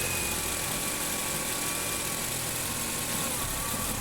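A Nissan Sentra idles after being shifted into Drive, giving off a steady, even engine hum and vibration. The sound is faint and constant, with no voices.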